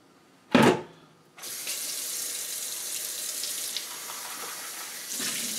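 Tap water runs steadily from a faucet into a sink while green pepper seeds are rinsed out, starting after a brief splash or clunk and continuing as a broad, even hiss at moderate loudness.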